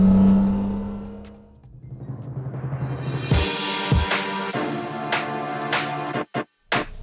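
Lamborghini V12 supercar engine while driving, revs dropping and then building in a strong, steady roar with gear-change dips and brief cut-outs near the end.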